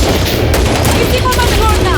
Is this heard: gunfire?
yes